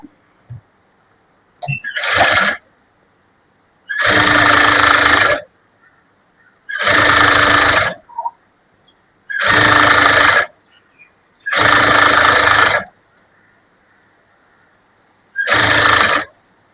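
Sewing machine running in five or six separate bursts of a couple of seconds each, with short pauses between, as it stitches a folded two-inch hem on a blouse lining.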